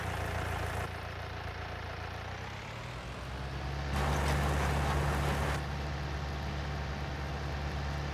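A tractor in Farming Simulator 19 runs with a steady low engine drone and idle hum, swelling louder for a couple of seconds midway before settling back to a constant rumble, with no talking.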